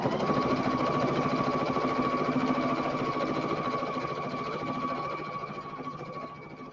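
A sewing machine stitches a bag at a steady, fast rhythmic whir with a mechanical buzz, running continuously close by and easing slightly toward the end.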